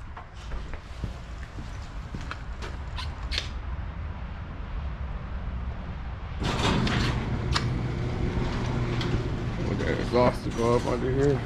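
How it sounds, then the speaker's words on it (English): A garage door closing rumbles and rattles as it rolls along its track, with clanks and ratcheting noises building louder partway through. "Let me close this garage too."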